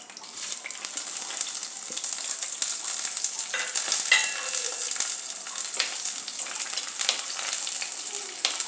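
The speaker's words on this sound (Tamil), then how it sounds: "எண்ணெய் ஊற்றிட்டு இந்த மசாலா சாமான்லாம் போட்டுடணும்" Whole spices such as cinnamon, cloves, cardamom, fennel, bay leaf, stone flower and star anise fry steadily in hot oil for moringa leaf soup, a close, continuous sizzle with faint stirring scrapes and no talking.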